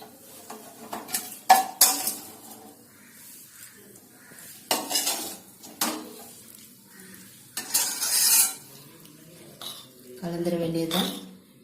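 Sautéed onions are scraped off a pan and stirred into cooked horse gram dal in a metal pot, giving bursts of clinking, scraping spoon strokes with pauses between, while someone speaks in between.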